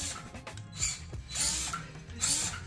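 An FMS FCX18 Toyota LC80 1/18-scale RC crawler grinds along in low-range gear, giving a quiet ratcheting, geary whir that swells in a few short surges as it climbs and crawls.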